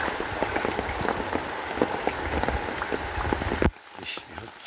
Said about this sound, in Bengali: বৃষ্টি হচ্ছে পুকুরে